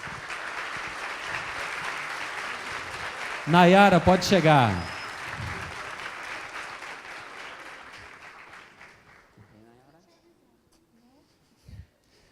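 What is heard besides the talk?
audience applause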